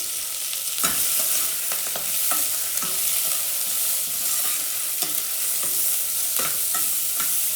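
Steady close frying hiss in a pressure cooker as ingredients for pulao cook, with scattered soft clicks and scrapes of stirring across the whole stretch and no voices.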